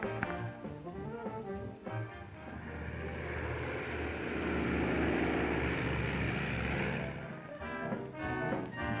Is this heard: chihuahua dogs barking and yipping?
no